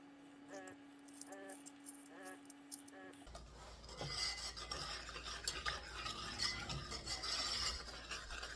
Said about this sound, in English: we're just going to keep stirring consistently until it gets to a thick consistency that we want